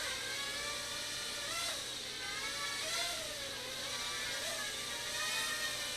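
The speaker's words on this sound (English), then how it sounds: "You can kind of hear the throttle kicking in, especially when I let off there." A JJ R/C F180 quadcopter's small electric motors whine steadily, their pitch surging and dipping several times as the throttle kicks in with rudder input.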